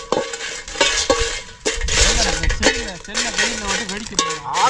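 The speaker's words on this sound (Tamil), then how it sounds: "மிளகா நல்லா அரை பக்கமாக வறுத்துக்கிறோம்." Dried chillies roasting in a pan for a traditional snail dish, with scraping, stirring and clinks of a utensil against metal over faint sizzling, while a voice talks at times in the background.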